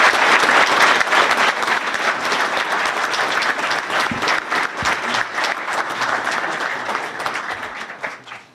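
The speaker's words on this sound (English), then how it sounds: "Let's give them another round of applause." Sustained applause from a city council meeting audience honoring award recipients, dense steady clapping that holds for several seconds before tapering off at the end.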